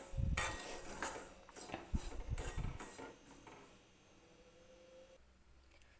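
Dry semolina (rava) is stirred and roasted in a hot kadhai over a medium flame with no oil. A spoon scrapes and knocks against the metal pan in a run of close, clattering strokes that grow quieter toward the end.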